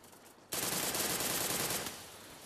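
Sustained burst of automatic gunfire in the battle-royale game Free Fire during a tournament match, loud and dense for over a second before tapering into quieter shots.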